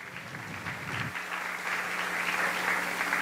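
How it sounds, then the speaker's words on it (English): An audience at a live Indian devotional music concert applauds young singers, including a three-year-old, with steady clapping that builds slightly louder and fuller toward the end. "So let's all give them a big round of applause"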